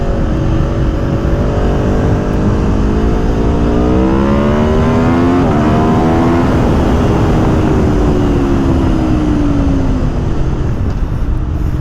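A BMW M1000 R or Aprilia Tuono V4 Factory motorcycle accelerating hard at full throttle, loud and continuous, with engine pitch sweeping up through several gear changes before easing off near the end.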